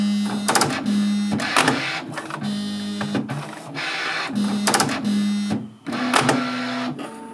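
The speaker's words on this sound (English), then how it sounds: "the loudest part of the H2D is the filament cutter arms flicking out" A Bambu Lab H2D 3D printer runs its pre-print calibration, with loud mechanical flicking and clacking of the filament cutter arms over a recurring steady motor hum, close by.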